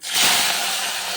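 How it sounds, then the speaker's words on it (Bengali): Tengra fish dropped into hot oil sets off a sudden, loud burst of sizzling hiss that holds steadily for about a second. "এ দেখো মাছ ছাড়বো।"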